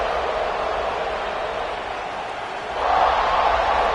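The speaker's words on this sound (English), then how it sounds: "The Red Raider crowd rising to the occasion to help its defense on third down." Texas Tech Red Raider stadium crowd in College Football 26, a loud continuous roar that swells noticeably louder partway through as fans rise on a third-down defensive play.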